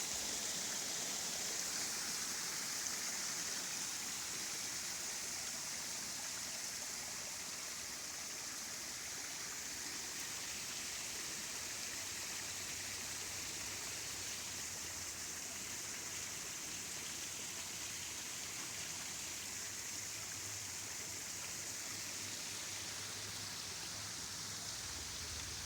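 Rainwater from a downpour spills over the rim of a 4-gallon bucket at a waterwheel microhydro setup, a steady, dense rushing and splashing that continues unbroken, close and even throughout.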